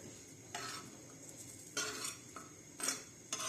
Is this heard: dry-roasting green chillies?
yes